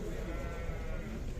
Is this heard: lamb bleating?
yes